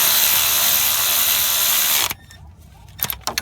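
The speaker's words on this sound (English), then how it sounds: "now we're fixing to tighten these bolts, the two in the front." Power tool whirs steadily on the bolts of a 2008 BMW 535i power steering pump, close and loud, then cuts off abruptly, leaving a few faint clicks and light mechanical knocks.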